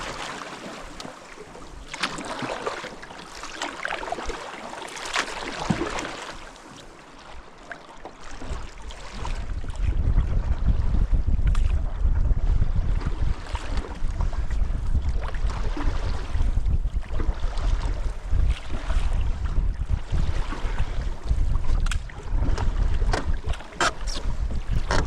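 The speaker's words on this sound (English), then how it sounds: "Waves are getting big." A canoe battles big lake waves and surf on a windy day: water sloshes and crashes against the hull while gusts buffet the microphone, growing much louder and rougher partway through.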